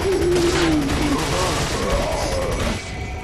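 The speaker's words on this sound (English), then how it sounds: "It's only a shotgun." Gunfire from a shotgun in Resident Evil 4, a loud dense burst of blasts and clattering mechanisms dominating the scene before tailing off near the end.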